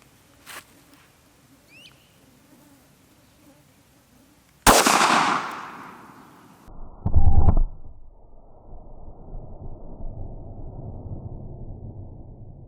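A 9mm pistol fires a single Federal Premium HST 150 grain Micro round, giving one sharp, loud crack with a reverberating tail. A heavy thud follows, then steady outdoor background noise.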